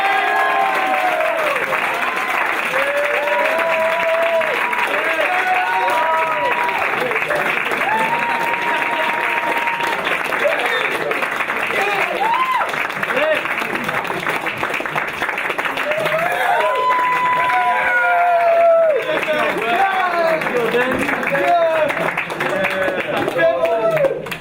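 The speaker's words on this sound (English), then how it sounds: "So let's get a round of applause for Benjamin." A banquet crowd at a water polo awards night claps loudly and continuously, with scattered whoops and calls rising over the applause and voices mixed in throughout.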